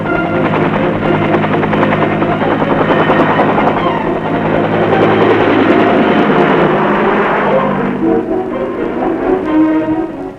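Military helicopter gunships flying over an insecure landing zone, a loud continuous rotor and engine roar with steady throbbing that fills the whole clip, heard alone without talk.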